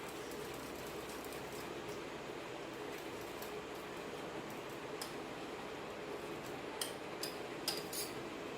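Chicken masala being mixed in a pot, a quiet ongoing stir with light scraping and faint clinks, plus a few sharper utensil taps toward the end.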